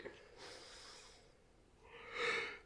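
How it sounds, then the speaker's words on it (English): A person yawns, a breathy drawn-out exhale that swells into a louder airy sigh near the end, quiet and close. "That was a less dramatic yawn."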